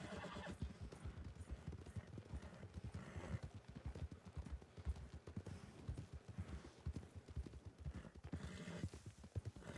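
Horses clip-clop steadily at close range in the Red Dead Redemption WildRP role-play game, their hoofbeats spread in an uneven rhythm, with a neigh or whinny breaking through and no talk over them.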